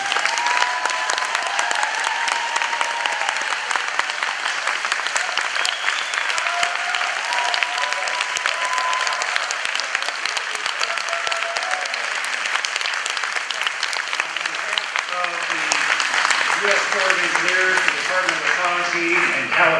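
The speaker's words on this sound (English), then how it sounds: "So why don't we just give a round of applause to everybody." A large crowd at a public hearing on a coal export terminal applauds steadily, dense clapping filling the room from start to finish, with a few voices rising beneath it.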